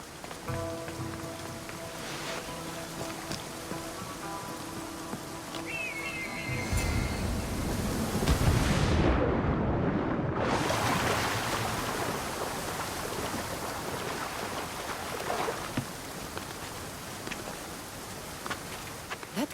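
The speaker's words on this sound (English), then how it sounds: "This is the waterfall." A waterfall roars in a steady, dense rush of falling water, swelling with a brief whoosh partway through and then settling back into a constant wash.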